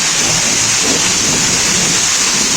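A heavy hailstorm with rain pours down as a dense, loud, unbroken hiss and roar, with no gaps in the downpour.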